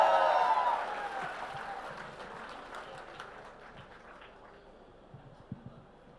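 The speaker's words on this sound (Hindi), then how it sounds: "जोरदार तालियों के साथ जुबैर अली ताबिश का स्वागत करें" An audience at a grand mushaira poetry gathering applauds to welcome poet Zubair Ali Tabish, a dense wash of clapping that is strongest at the start and slowly fades, with faint voices and a few thumps near the end.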